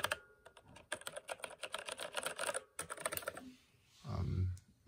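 Typing on a Logitech G413 mechanical keyboard gives a fast, steady run of crisp, close key clicks. The clicks are briefly broken by a louder, low thump toward the end.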